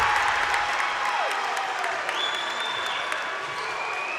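A high school varsity boys' basketball crowd in a gym claps and cheers in a steady, dense roar throughout, with a few sharp whistle-like tones riding over the noise.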